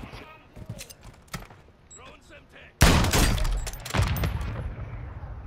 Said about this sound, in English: Hit him with an incendiary round.